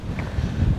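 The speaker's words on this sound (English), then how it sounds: "The wind has really picked up." Strong gusts of wind buffet the microphone, a loud low rumbling roar that fluctuates briefly.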